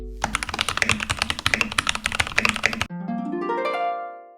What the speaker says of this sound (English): here's a typing test of how it sounds